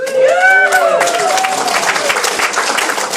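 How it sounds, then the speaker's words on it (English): An audience at a Labour Party election hustings breaks into steady applause, a dense patter of clapping that swells loud and close right after a few people call out, then continues evenly. "Don't clap too loudly"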